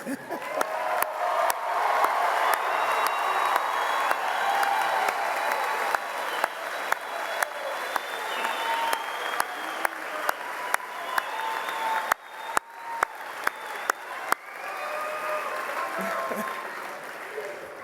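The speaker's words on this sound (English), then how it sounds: "I will give you one more opportunity to applaud all our graduates." An audience at a university spring commencement ceremony applauds its graduates with sustained clapping and scattered cheers and whoops, heard from a distance, while a few sharp, close claps punctuate the crowd.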